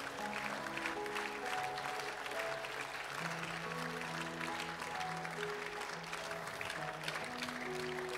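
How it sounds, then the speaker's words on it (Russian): A church congregation applauds together at a Thanksgiving service, a dense, sustained patter of many hands clapping continuously, heard through a room with organ-like tones sounding underneath. "Мы будем всей церковью вам аплодировать."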